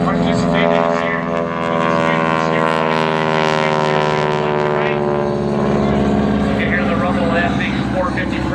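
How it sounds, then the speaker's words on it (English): A Pratt & Whitney 450 radial-engine airplane cruising down the show line at about 1,800 RPM at the Fargo airshow, a loud, sustained droning engine tone that shifts slightly as it passes. "That big 450 Pratt being pushed out there"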